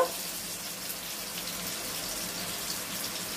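Water pouring into strained mustard seeds in a mixer jar, a continuous close, even splashing rush with no pauses.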